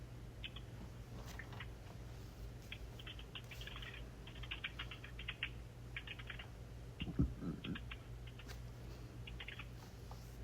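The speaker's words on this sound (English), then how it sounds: "I'm just typing this up." Quiet, irregular tapping of keys on a computer keyboard in short bursts, over a low steady hum with a faint bird chirp in the background.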